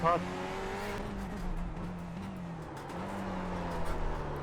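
Race car engine in the iRacing simulator during a Le Mans Series endurance race at Hockenheim, a steady, sustained drone that dips and climbs with gear and throttle changes, with some speech over it.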